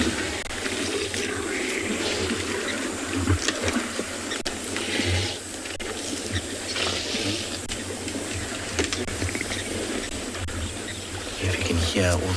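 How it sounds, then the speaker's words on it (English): Hippos splashing and slurping in water on a hot safari afternoon at sunset, a continuous wash of sloshing and gurgling with bursts of heavier splashes, under intermittent talk from nearby people. "If you can hear all the water being splashed, them slurping"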